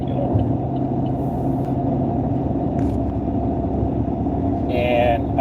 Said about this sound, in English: You might hear a lot of car noise.